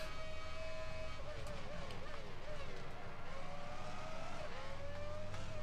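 Formula One race car engine in the Formula One Championship Edition game, a continuous high droning whine with shifting pitch as the car runs laps at the Turkish Grand Prix, steady and up close, with a voice talking over it.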